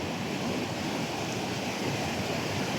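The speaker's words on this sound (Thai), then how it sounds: "น้ำไหลนี่งามไร" Water flowing in a natural stream at Ban Na Toe, a steady, dense rush that holds evenly close by, with no voices over it.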